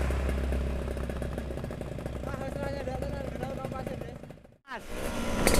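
Vespa scooter engine runs close by with a steady buzzing drone and some clatter, briefly cutting out near the end before picking up again, under voices.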